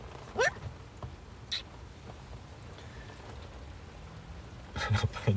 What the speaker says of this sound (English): That nice, gentle, tippy-tappy noise you hear is hail.